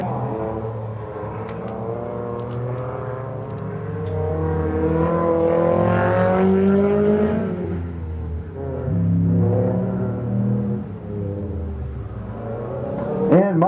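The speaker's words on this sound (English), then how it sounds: "I'm sure she can't hear me over that loud exhaust" A Mazda MX-5 autocross car with a loud exhaust revs and accelerates around a course, its engine note rising and falling through gear changes, close and rumbling.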